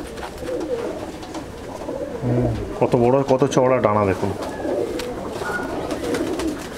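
Chennai breed pigeons coo in a loft in Andul, Howrah, a low murmur running under someone talking close by.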